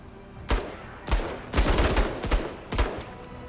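AI units open fire in the Menace video game: several sharp bursts of gunfire crack out in quick succession, with a sustained rattling volley in the middle, loud and close against a low background hum.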